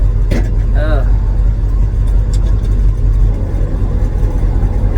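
A classic farm tractor engine runs just after starting, a loud, steady low rumble close by, with a person talking briefly over it near the start.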